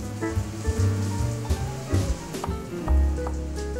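Salmon fillet sizzling in a hot pan, a steady dense crackle with occasional louder pops and clatter as the fish is turned, close and continuous without any talk.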